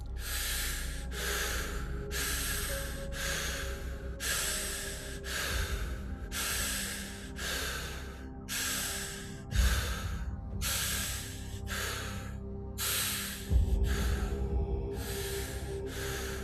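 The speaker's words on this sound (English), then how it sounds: "now let's go into our standard breathing rhythm" Rhythmic connected breathing exercise: about sixteen loud, close, airy breaths follow one another with no pause between inhale and exhale, at a steady pace with no speech.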